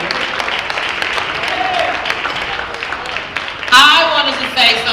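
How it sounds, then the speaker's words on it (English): A crowd applauds at a Faces of Cancer event, giving a standing ovation to an honoree; sustained clapping fills the room, and louder shouts and cheers burst out near the end. "Let's stand up and give him a round of applause"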